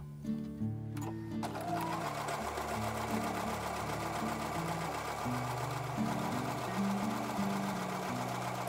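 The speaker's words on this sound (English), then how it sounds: "I'll take this back over to the sewing machine." A sewing machine stitches a quilt block for a combination star pattern, its needle running in a steady, continuous mechanical hum that starts after a brief pause and carries on loud and close.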